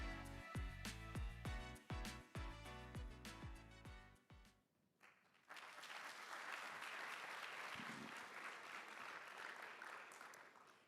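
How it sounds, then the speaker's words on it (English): An evening finals-event audience bursts into sustained, dense applause in a large hall. The clapping carries on loud and steady for several seconds after a brief lull, with no talk over it. "Thank you for the applause."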